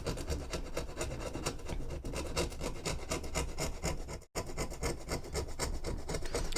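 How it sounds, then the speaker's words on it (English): A blade scrapes old paint off a vintage wooden artist's palette in steady, rapid back-and-forth rasping strokes, close up and continuous, with one brief break near the end. "Once I've scraped off all the paint,"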